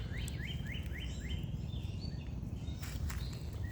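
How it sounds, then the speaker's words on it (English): Birds sing in park woods in Durham, North Carolina: a repeated series of quick rising chirps, then scattered tweets and calls from several birds, over soft ambient rustle. "you hear how much bird song there is?"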